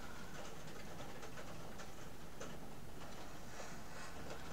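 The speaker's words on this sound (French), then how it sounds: "le bruit que vous entendez, c'est la pluie qui tombe sur mes carreaux." Rain pours steadily against window panes, a dense continuous hiss with scattered sharper ticks and patters from drops striking the glass, close and fairly loud with no pauses.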